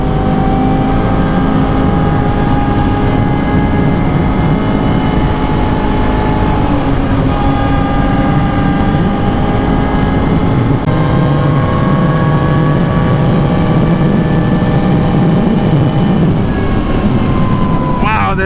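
Vehicle with a full HMF Racing exhaust system accelerating hard from a launch, a loud close engine note whose pitch climbs steadily in sweeping rises with a brief shift break midway, continuous throughout.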